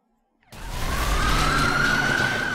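Police car siren in the Driver San Francisco video game rises in a steady wailing sweep after a brief silence, loud and close over a low rumbling engine and road bed with no talk.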